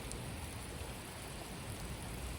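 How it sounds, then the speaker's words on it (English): Steady, faint rain falling as a continuous, even hiss with no other sounds. "I think the rain is speaking to me. I can hear it ever since I woke up."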